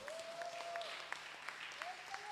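A church congregation applauds with soft, scattered clapping while a faint sustained tone hovers in the background. The clapping is fairly quiet and sounds somewhat distant.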